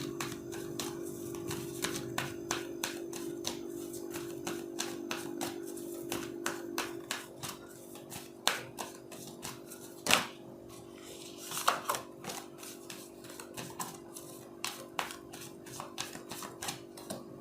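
Tarot cards being shuffled and a guidance card drawn, heard as soft, rapid flutters and taps with a few sharper snaps, fairly close and with no talking.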